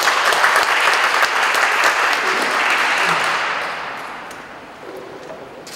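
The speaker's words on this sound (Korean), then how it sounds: "박수 부탁드립니다." Audience applause at a startup park vision ceremony and agreement signing in Incheon, a dense sustained clapping from a large crowd that gradually fades toward the end.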